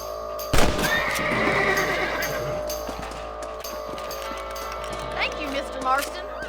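A horse in the Western video game Red Dead Redemption gives a loud, close whinny near the start, followed by a clip-clop of hooves and a few shorter snorts and neighs, with game sounds around it.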